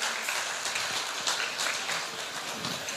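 Audience applause closes a book festival event, a crowd clapping in a dense, moderately distant patter that holds for the whole stretch.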